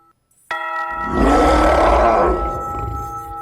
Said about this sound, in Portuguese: O sino da árvore está tocando!